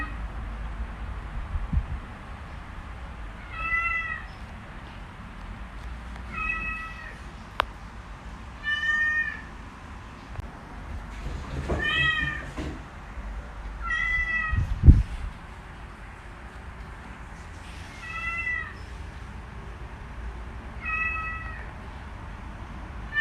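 A recording of a kitten meowing plays, about seven thin, high mews spaced a few seconds apart, above a low rumbling background.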